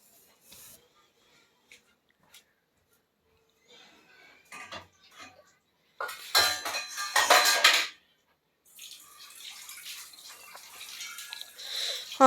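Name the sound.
stirring gram flour being roasted in a pan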